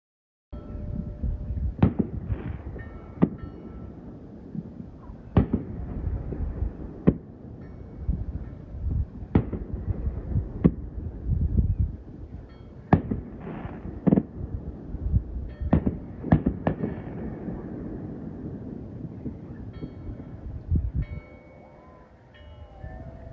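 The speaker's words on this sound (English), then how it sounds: "July 4th fireworks could be heard all around us." July 4th fireworks heard from a sailboat anchored outside the harbor near Menemsha on Martha's Vineyard, a series of sharp distant bangs and pops at irregular intervals over a low rumbling background.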